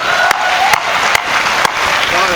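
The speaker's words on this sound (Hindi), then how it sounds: "तो एक बार आगे से पीछे तक जोरदार तालियां उठे।" Loud audience applause at a Hindi comedy poetry stage show, a dense steady wash of clapping with a few sharper claps standing out, continuing throughout without talk.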